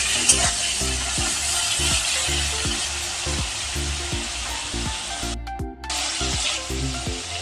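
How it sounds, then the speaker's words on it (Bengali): Prawns seasoned with salt and turmeric sizzle steadily in hot oil in a pan, a bright continuous hiss with regular stirring scrapes and a brief pause in the frying. "নুন হলুদ দিয়ে চিংড়ি মাছটা হালকা আমি ভেজে নেব।"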